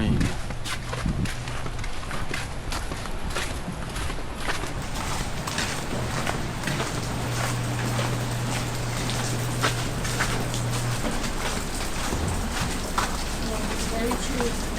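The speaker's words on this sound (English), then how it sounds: "full on rain." Heavy rain falls steadily, a dense, even hiss with scattered sharper drops and knocks throughout, fairly close and continuous for the whole stretch.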